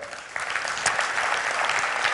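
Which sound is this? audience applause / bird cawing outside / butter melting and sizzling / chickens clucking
audience applause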